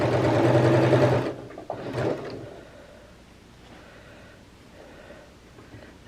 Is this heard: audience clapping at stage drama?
no